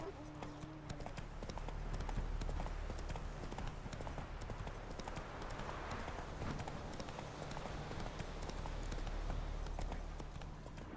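Roach the horse gallops in The Witcher 3, steady rhythmic clip-clop hoofbeats running throughout over a constant low rumble, with a voice speaking at times.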